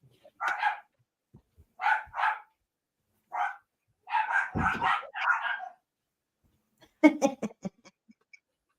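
Dogs bark in short bursts of one to three yaps, fairly close and clear against an otherwise quiet indoor room, ending with a quicker cluster of sharp yips.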